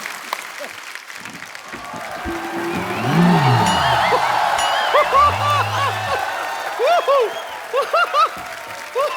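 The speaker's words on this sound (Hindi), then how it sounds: "जोरदार तालियां एक बार बाबा जी के लिए।" Loud studio audience applause on a comedy talk show, a dense sustained wash of clapping with whoops and cheers, while a voice speaks and sings over it, then scattered laughter toward the end.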